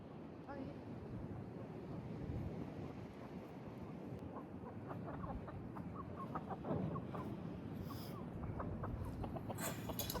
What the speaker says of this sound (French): il y a une poule à la route